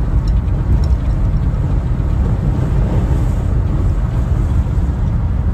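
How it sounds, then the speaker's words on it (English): A 1970 Cadillac Deville's engine while driving, a loud steady low rumble with road and cabin drone that holds constant throughout, no talking. "All right, so we are driving this 1970 Cadillac Deville."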